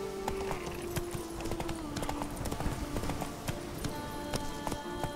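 Roach the horse gallops in The Witcher 3, hooves clip-clopping in a quick, steady rhythm close by, with a soft musical drone underneath and no talk.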